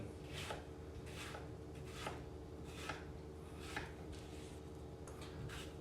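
A knife scores potatoes crosswise on a board, making about seven evenly spaced, crisp cutting taps over a low steady background hum, close and fairly quiet, with no speech.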